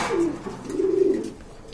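Pigeons at a pigeon seller's stall give two low, soft coos close by, a short one then a longer rolling one, with no talk over them.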